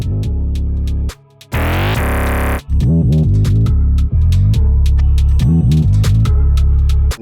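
Distorted 808 bass notes in a drill pattern, built in Ableton Live 11, loud and sustained, with pitch glides sliding between the notes and a brief bright noisy burst, with no voices.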